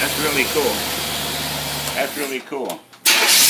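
A small Predator engine with a carburetor starts up and runs, a steady motor drone under close, loud talk, cutting out near the end before a louder burst.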